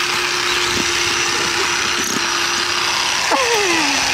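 A jackhammer breaks into dirt outdoors in the hills of Tennessee, a steady loud mechanical drone that runs throughout with a few short knocks and a pitch shift near the end.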